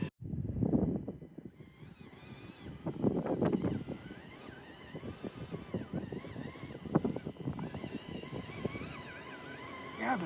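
A tiny Axial SCX30 RC crawler driving outdoors, its small electric motor whining and surging in short throttle bursts against wind noise, fairly faint and close.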